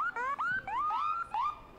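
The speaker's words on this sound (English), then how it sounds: "When you hear those sirens, you know that they're coming to make sure that we are safe and well in our community." Fire rescue vehicle sirens wail at a parade, rising and falling tones repeating loudly and close by with no talking.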